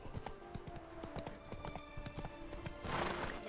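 A galloping horse in The Witcher 3 sends out a rapid, rhythmic clip-clop of hooves close by, with a rising whoosh of movement near the end.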